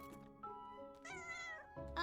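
A cartoon kitty meowing in a video game, several short tonal meows under game music, close and clear.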